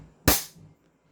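A single sharp crack from a CZ Shadow 2 airsoft pistol, orange version, firing one shot up close, a short loud snap that fades quickly into quiet.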